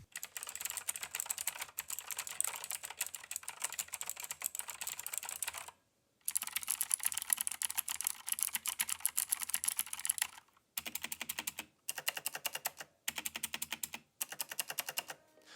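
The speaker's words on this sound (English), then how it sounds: "here's just a quick sound comparison between the Red Dragon Varo and the EagleTec." Someone types on two blue-switch mechanical keyboards, a Red Dragon Varo and an EagleTec, making dense clicky clacking in several bursts separated by short pauses, with no voices.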